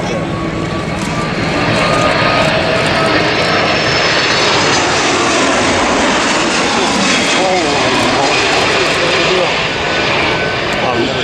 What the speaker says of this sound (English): 8 of these aircraft currently in service with the RAAF as our strategic and tactical airlifter